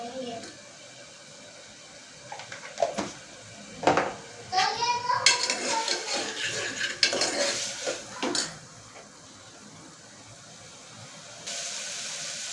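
Toor dal dry-roasting in a pan, stirred with a utensil that clinks and scrapes against the metal in irregular bursts, loudest through the middle, over a low steady background with occasional voices.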